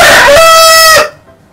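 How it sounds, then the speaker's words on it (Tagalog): A rooster crows once, loud and near, a long strained call that cuts off abruptly into quiet, within a shadow-play telling of the Filipino epic Biag ni Lam-ang. "at sa tilaok ng kanyang mahiwagang manok"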